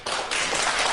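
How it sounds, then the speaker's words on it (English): An audience breaks into applause, a dense, steady wash of many hands clapping that starts abruptly and holds loud for the whole second. "How can you applaud that?"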